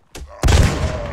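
A loud burst of gunfire from a video game battle during an assault on a gate erupts after a faint thump, then rumbles on with booming, crackling shots close by.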